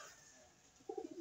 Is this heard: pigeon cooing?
yes